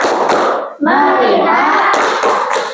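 A group of schoolchildren in a classroom play the tepuk fokus clap game, chanting loudly in unison while a few sharp, close claps cut through the chant.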